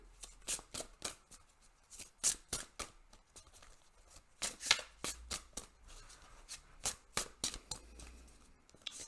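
A deck of tarot cards is shuffled by hand, producing close, crisp riffling bursts and flicks in a steady irregular run, with brief soft pauses and no talk.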